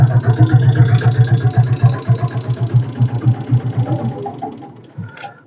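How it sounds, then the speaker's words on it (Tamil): A Royal Enfield Bullet motorcycle engine runs after a self-start, thumping in a loud, close, rhythmic idle that slowly eases and fades near the end. "இந்த வண்டிக்கு நான் ஃபஸ்ட்டு செல்ஃப் போட்டு காட்டுறேன்"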